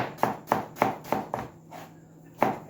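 A knife chops a raw onion on a cutting board while the cook is blindfolded, making quick, steady, close-up thuds in a brisk rhythm with a short pause before the chopping resumes.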